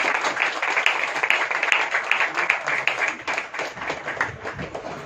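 Audience members at a spiritual talk clap together, a close, busy patter of many hands that holds steady and thins slightly toward the end, with no speech over it.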